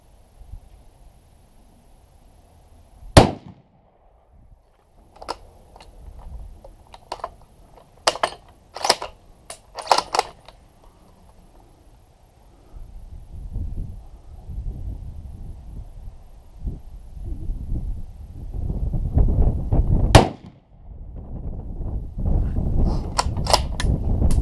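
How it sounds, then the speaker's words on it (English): Shots from a Ruger Precision .308 rifle at an outdoor range, heard as a sharp crack followed by several more spaced reports, with wind noise and rustling rising in between and one later shot. "I will shoot for accuracy in groups to see how it goes."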